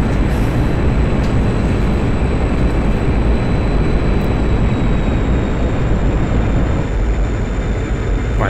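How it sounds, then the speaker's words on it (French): A MiG-21bis jet engine roars in the DCS flight simulator game with afterburner engaged, a loud, dense, continuous rumble that stays steady throughout. "Je retire le surplus de post-combustion."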